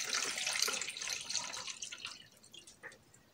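Water poured into a drinking glass, a steady splashing trickle that gradually quietens over about three seconds, close and faint, with no talk.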